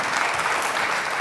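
Crowd at the Lichfield Live Community Awards 2021 applauding Lichfield Little Legends, a short, dense burst of steady clapping from many hands.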